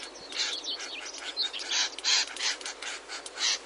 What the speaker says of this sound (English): they make very loud calls and they snap their beaks with a loud clicking sound